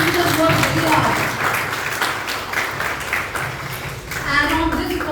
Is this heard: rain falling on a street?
no